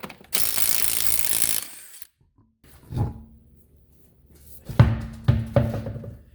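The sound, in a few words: 19 mm ratchet removing wheel nuts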